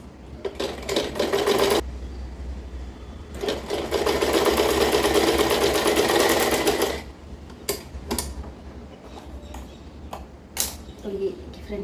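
A sewing machine stitches along folded fabric close up. It runs in a short burst, then in a longer steady whirring run, followed by several brief stop-start clicks and taps.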